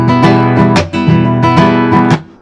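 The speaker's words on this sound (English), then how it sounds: "flicking my index finger off of this little crook in my thumb" Nylon-string guitar played in a rumba strum, with sharp snare-like slaps made by flicking the index finger off the thumb, several percussive hits over ringing chords, close and loud with no talk.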